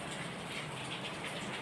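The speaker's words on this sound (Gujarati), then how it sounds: "વરસાદ ચાલુ છે." Morning rain falls in a steady, even hiss of drops with no voices, faint and continuous throughout.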